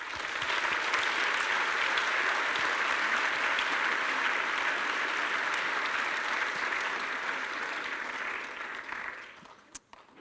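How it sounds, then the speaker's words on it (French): Sustained audience applause at a tech conference opening keynote in Toulouse, dense and steady for about nine seconds before tapering off into a few scattered claps. "je pense qu'on peut aujourd'hui les applaudir."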